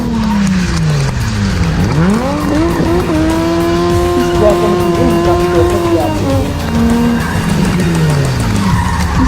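A car drifts on a Pakistan Air Force-built race track in Karachi, its tires squealing in a long rising and falling screech over a loud, continuous engine roar, close and intense.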